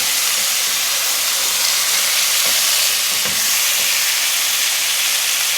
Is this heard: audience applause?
no